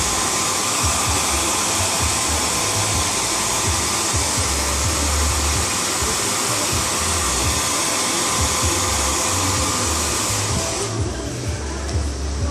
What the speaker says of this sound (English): Dry it to dry the glue.